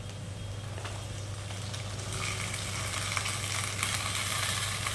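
Okra frying with chopped onion in a pan, a steady soft sizzle that grows a little louder, with occasional light stirring scrapes.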